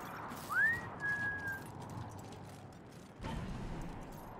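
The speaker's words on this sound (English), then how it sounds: "Why is he whistling at me?" A character in the video game Wasteland 3 gives a rising then level whistle over faint mechanical clanks and game ambience, with a louder rumble joining near the end.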